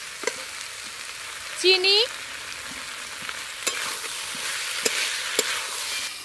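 Mixed winter vegetables with chili powder frying in a pan, stirred with a spoon: a steady close sizzle with a few sharp scraping clicks, a short spoken word partway through.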